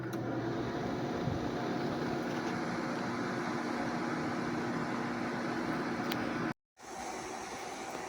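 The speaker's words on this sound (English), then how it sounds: "Here's the Hampton Bay running from the outside. Compressor is running, it's just very quiet." Hampton Bay air conditioner with a Samsung compressor running outdoors, a steady, fairly quiet hum and whir that holds evenly, with a brief dropout near the end.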